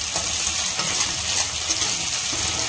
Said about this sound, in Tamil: நம்ம நேச்சுரல் கருவேப்பிலை சேர்த்தாச்சு. இப்போது அது வந்து படபடன்னு பொரிய ஆரம்பிக்கும்.